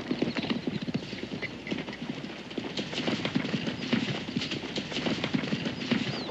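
Horses pulling a hitched wagon, with steady close clip-clop hoofbeats and a rolling rhythm, loud and continuous.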